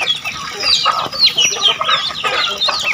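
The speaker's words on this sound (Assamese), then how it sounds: "হাঁহৰ লগত কুকুৰা পোৱালিও থাকে" Chicken chicks kept together with ducklings cluck and peep in a busy, overlapping chorus of high chirps, close by and steady throughout.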